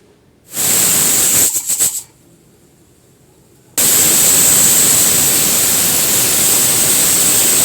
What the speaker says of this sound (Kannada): ಕುಕ್ಕರ್ ಮುಚ್ಚಲ ಮುಚ್ಚಿ ವಿಜ್ ಒಂದು ಟೂ ವಿಜಿಲ್ ಕೂಗಿಸ್ಕೊಬೇಕು